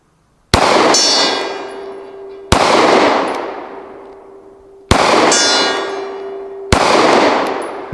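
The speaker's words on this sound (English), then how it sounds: "let's just go shoot the gong with it" Four loud, ringing clangs of bullets striking a steel gong target, spaced about two seconds apart, each with a long metallic ring decaying slowly; no voices.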